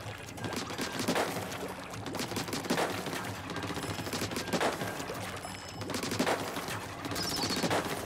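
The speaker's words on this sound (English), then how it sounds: "Yep, the dual gun is still the better weapon for me." Dual gun weapon firing in the Splatoon 3 video game during a Splatfest match, steady rapid splattering shots in repeated bursts under busy game sound.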